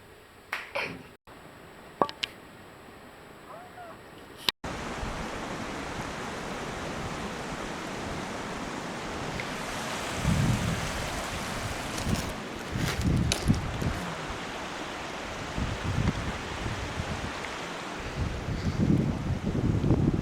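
A river beside its bank high on a mountain flows with a steady broadband rush. A few sharp clicks come first, then the water noise grows fuller and louder and carries on without any speech.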